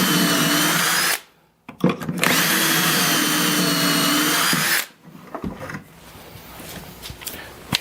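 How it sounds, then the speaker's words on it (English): A power drill bores pocket holes through wood held in a jig, one for a Kreg K5 or Porter Cable QuikJig comparison, giving two loud, steady whining bursts split by a short pause, followed by quieter handling clatter. "I'm going to drill a couple holes with each of these units"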